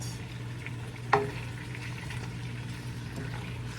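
Tomatoes and onions fry in a hot pan with a steady low sizzle, and one sharp scrape or clink from a stirring utensil cuts in near the start before the sizzle carries on alone.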